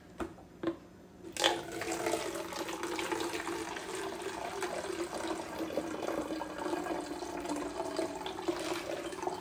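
Water poured steadily into a container to hydrate yeast for mead, a continuous close splashing trickle after a couple of brief knocks, with no talk.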